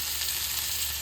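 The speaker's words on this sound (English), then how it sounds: "my grease is hot. I can smell it and I feel it behind me. So I'm just going to put my chops in my skillet." Pork chops frying in hot grease in a skillet, a loud, steady, broadband sizzle with no break, close up and without talking.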